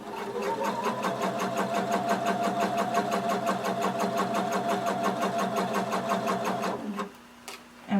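A sewing machine stitches swimsuit fabric in a fast, even run of needle strokes, then stops for a back stitch with a brief whir and click near the end.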